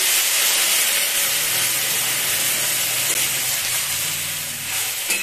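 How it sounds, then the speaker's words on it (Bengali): Hot water hits fried potatoes in a pan, giving a loud, steady sizzling hiss with bursts of steam that runs without a break and eases slightly toward the end. "আলু ভাজা কমপ্লিট এবার দিয়ে দেব গরম জল"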